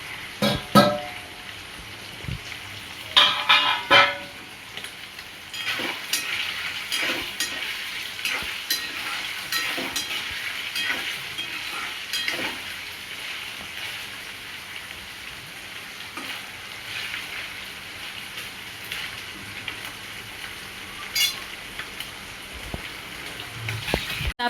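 Paneer fries in hot oil until golden brown, a continuous close crackling sizzle full of scattered pops and spatters, with occasional louder bursts of spitting over nearly half a minute.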